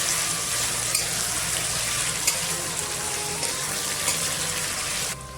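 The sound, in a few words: mutton fat frying in a pan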